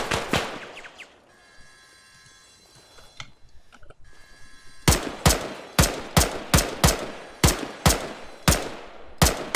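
Gunfire in the Arma 3 military shooter, loud and close: a few shots at the start, a quieter lull, then a steady run of evenly spaced single shots ringing out one after another.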